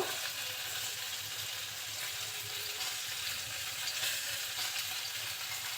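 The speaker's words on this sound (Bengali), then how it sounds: "এখন এই পাশটা একটু ভেজে নিব" Pieces of large fish fry in oil in a pan, giving off a soft, even, continuous sizzle that stays faint and steady throughout.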